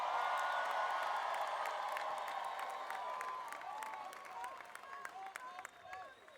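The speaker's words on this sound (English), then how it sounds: "Let's give her a big round of applause." Applause and cheering from a crowd at a Tallahassee rally greet a speaker, with clapping and scattered whoops that slowly thin out, and voices can be heard among them.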